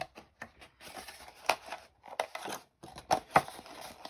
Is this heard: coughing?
no